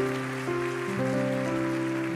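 Crowd of churchgoers clapping together, a dense continuous patter of applause with sustained keyboard-like tones ringing beneath it.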